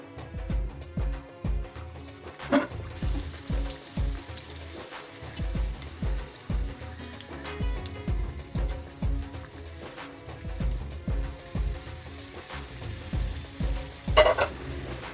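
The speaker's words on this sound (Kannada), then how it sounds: "ಈಗ ನಾನು ಬನ್ಸ್ ಒಂದೊಂದೇ ಹಾಕಿ ಎಣ್ಣೆಲಿ ಕರಿತೀನಿ." Mangalore buns dropped one at a time into hot oil, giving a steady crackling sizzle with soft bubbling pulses and a couple of sharper splashy bursts.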